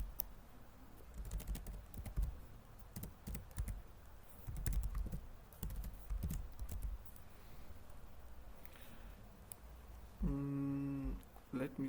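A computer keyboard is typed on in bursts of quick clicks while code is written in Android Studio, with a person speaking intermittently over the keystrokes.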